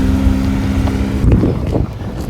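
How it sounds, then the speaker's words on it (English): A Porsche GT3 drives on a race track, heard as a loud, close engine drone mixed with heavy wind rush that shifts and thins partway through. "Let's follow this Porsche GT3"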